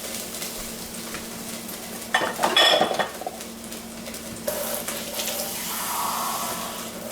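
Water is splashed into a hot pan to deglaze pork chops, bringing a sudden loud sizzle and hiss over quieter pan scraping and clinking. A second, steadier sizzle follows and holds.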